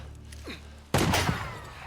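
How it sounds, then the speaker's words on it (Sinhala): A gunshot booms in the video game Days Gone, one sharp, loud crack with a rumbling tail, heard after a second of low engine-like hum. "එයා අපිට වෙඩි තියනවා."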